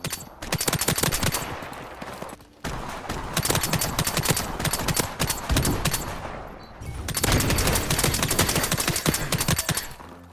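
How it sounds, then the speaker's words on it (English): A suppressed G3 rifle fired in Call of Duty, sounding as long runs of rapid, evenly spaced muffled shots in three sustained bursts with short pauses between them, close and steady with no talking. "Picking people off one bullet at a time with a suppressed G3"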